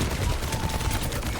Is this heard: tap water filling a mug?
no